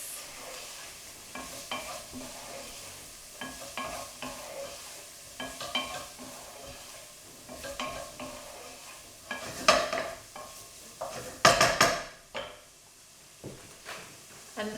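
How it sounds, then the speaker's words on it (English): Pepper and garlic stirred in a pot for a tomato pasta, a steady scrape and soft sizzle running throughout with occasional louder clinks of the spoon against the metal near the end, close and with no talking. "so now we're just going to add our pepper and our garlic to the pot. Give it all a good mix"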